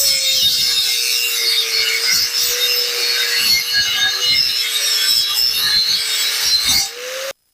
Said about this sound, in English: I'm going to have to grab a grinder after all.